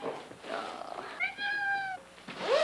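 A cat meows twice indoors, first a clear, steady, drawn-out call and then a shorter rising one, close by and fairly loud over a quiet room.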